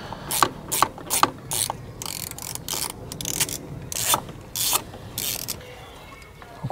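Screws come out of a high-pressure fuel pump from a BMW 760Li, with sharp, irregular ratcheting clicks and scraping turns close up in a quiet workshop.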